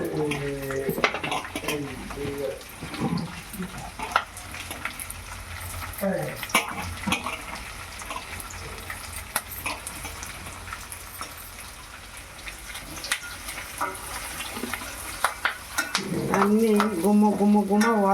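Melon seeds, pumpkin seeds and nuts for Rayalaseema-style dry fruit laddus roast in a pan, with a soft hiss and intermittent scraping stirs, brief clatters and a voice speaking near the end.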